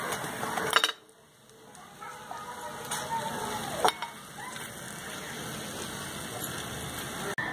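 Koi fish frying in hot oil in a pan, a steady soft sizzle with a few clinks of utensils and a brief quiet dip near the start.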